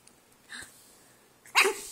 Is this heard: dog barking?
yes